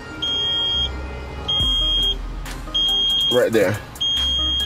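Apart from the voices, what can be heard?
beeping in car, Hyundai Veloster climate control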